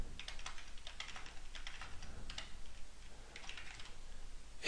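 Fingers typing a credit card number on a computer keyboard, a quick irregular run of soft key clicks, fairly faint and close, with no talk.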